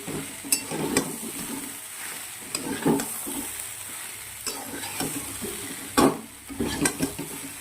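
Lentils stirred and fried in a pan make a close sizzle punctuated by repeated scraping strokes and knocks of a spoon against the metal at an uneven rhythm.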